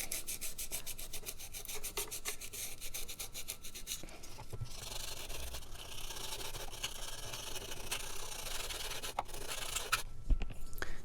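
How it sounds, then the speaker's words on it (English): Plastic surfaces of a Harman Kardon Go Play speaker being roughed up by hand, a continuous close scratchy rasping with a fast rubbing rhythm and a few sharper scrapes toward the end. "it's always very important to just rough up the surfaces a bit, just so that it can bite into that plastic"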